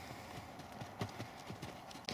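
Horse hooves clip-clopping at a walk over ground poles during flatwork riding, a steady series of soft, near thuds with a sharper knock toward the end as a pole is struck.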